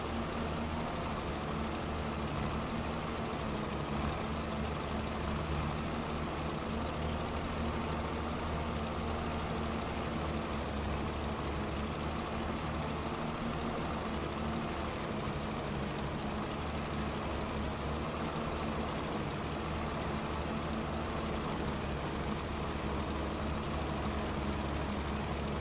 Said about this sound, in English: just turn the engine off